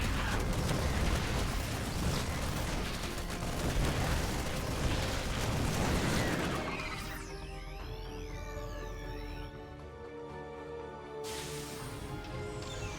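Siege tanks fire and detonate in a StarCraft 2 Terran versus Zerg match, a dense roar of booming explosions for the first six seconds that gives way to quieter game effects and tones.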